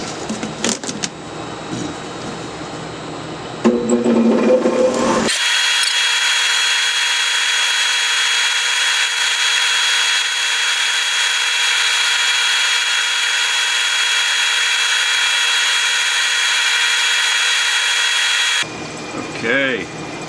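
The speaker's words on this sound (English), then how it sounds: "And now we will get to sanding." A power sander on silver maple wood runs in one steady, loud, high-pitched whine for most of the stretch, starting up abruptly and cutting off near the end.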